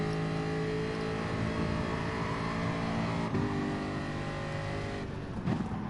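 Race cars lapping a seaside circuit in Gran Turismo Sport, a loud steady engine drone with layered harmonic whine under the in-car view, shifting pitch briefly as gears change and another car nears.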